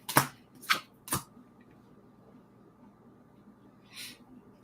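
A deck of cards is shuffled for a card reading, three quick riffling bursts close together near the start and another softer one shortly after, with a faint steady hum between them in a quiet room.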